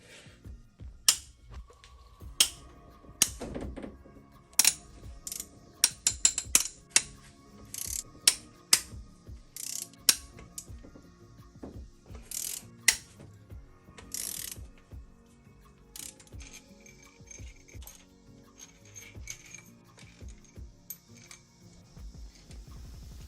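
A ratchet and socket breaking loose the cylinder head bolts on a Mazda Miata engine: rapid bursts of ratchet clicking and sharp cracks as bolts give, close up in a quiet garage, with pauses between sets of clicks.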